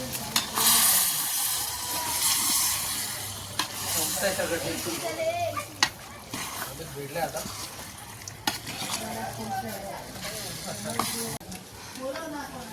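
Chicken masala sizzles steadily in a pan on a wood-fired stove while a utensil scrapes and stirs it, with intermittent clinks and a voice talking over the cooking.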